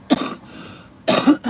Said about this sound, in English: my cough doesn't sound like it did before